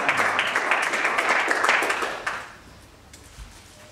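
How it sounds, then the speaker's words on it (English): Football players from a club just relegated from the Conference South applaud their supporters, with a dense patter of clapping that carries for a couple of seconds and then fades to quiet background. "That's when the players start clapping"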